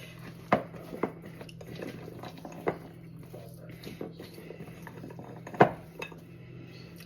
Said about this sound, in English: Let's mix that in with the biscuits.